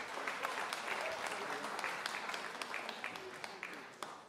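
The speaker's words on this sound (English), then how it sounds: "Let's give these guys a round of applause just for leading us so wonderfully." A church congregation at a Sunday service gives the worship leaders a round of applause, a sustained, fairly soft wash of clapping with a few sharper individual claps standing out as it tapers.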